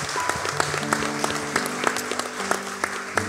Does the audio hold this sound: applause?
yes